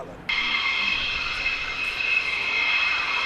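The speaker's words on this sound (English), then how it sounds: "behind the two departing aircraft, right to left" Fixed-wing aircraft departing runway 27 at the Fairford airshow, a sustained loud jet roar that swells in abruptly and holds steady throughout, close and continuous.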